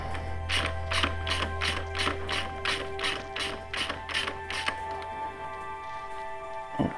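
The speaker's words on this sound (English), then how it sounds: "we've got the 13mm bolt that runs through the lower shock mount here. And so we're going to knock that out now" A 13mm bolt is knocked out of the lower shock mount on a KTM motorcycle with about ten steady, evenly spaced metallic taps close by, then the strikes stop while a low hum continues beneath.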